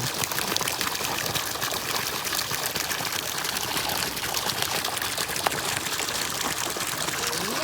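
Steady water pouring and trickling continuously from a spout at a Mahadev temple, a constant splashing stream close by with no break, faint background voices.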